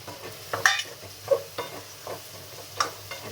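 Capsicum and carrot go into frying paneer masala in a pan and get stirred, giving several close scraping strokes over a soft sizzle, irregular and brief, with no talking.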